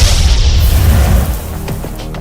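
A heavy, deep explosion-like boom with a rumbling low end that gradually fades, followed by a few faint crackles.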